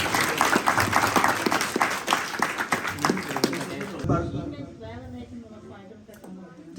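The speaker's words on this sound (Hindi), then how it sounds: "तो इनके लिए भी भरपूर तालियां।" Audience applause for a quiz team at a Minhaj Quran knowledge conference and quiz competition: dense, loud clapping for about four seconds, then dropping away into quieter hall noise with a voice speaking.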